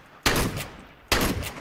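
Two heavy MAG-7 shotgun blasts fired into smoke in Counter-Strike 2, each a sharp loud crack with a short decaying tail, spaced under a second apart.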